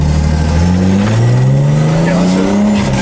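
A turbocharged BMW E30 rated around 450 horsepower is driven hard, its loud engine and exhaust droning close up and rising steadily in pitch as it accelerates, with no talking over it.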